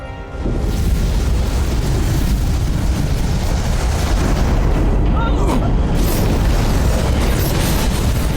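A starship taking an impact explosion in the video game Star Trek Resurgence: after a brief quiet start, a loud, sustained roaring rumble of blasts and debris fills the rest.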